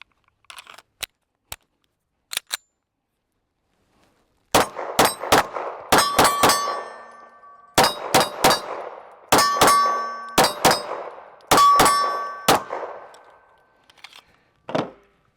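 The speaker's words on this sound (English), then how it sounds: "Let's shoot these few rounds here." Several sharp pistol shots from a Sig P211 GTO ring off steel targets, a few isolated cracks followed by rapid strings of ringing clangs, loud and close.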